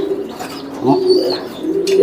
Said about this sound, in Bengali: এই যে দেখেন বন্ধুরা কবুতরটা দেখেন